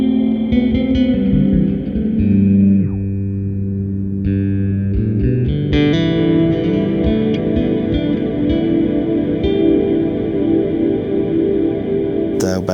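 An Erica Synths Echolocator delay effect processes an ambient bass synth, with sustained distorted tones, shifting pitches and echoing repeats layered throughout, loud and continuous with no talking.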